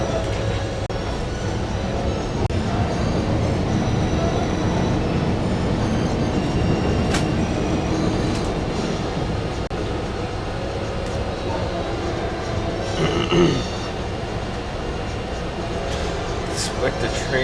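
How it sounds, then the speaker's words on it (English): A Metrolink train runs steadily alongside, a loud continuous rumble and rattle of rail cars with a brief squeal, heard from on board or close by with voices faintly underneath. "Expect a train on any track from any direction, anytime."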